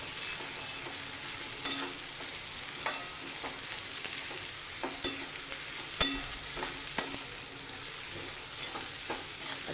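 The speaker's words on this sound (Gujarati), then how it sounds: "કોબીને બરાબર હલાવી લઈશું" Shredded cabbage for a Gujarati sambharo frying in a pan with a steady hiss, broken by repeated soft stirring scrapes and taps, close and continuous without talk.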